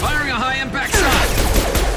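A high-impact gunshot from the video game Mass Effect 2 Legendary Edition: a loud, booming blast that breaks in partway through, following a voice, then rolls on with crackling reverberation.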